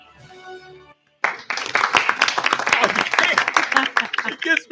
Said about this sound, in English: It gives me the light applause.